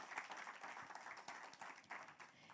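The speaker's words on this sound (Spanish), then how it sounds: "Dale un aplauso a Dios." A church congregation applauding during a Spanish-language sermon, a faint, somewhat uneven burst of many hands clapping, heard quietly at a distance.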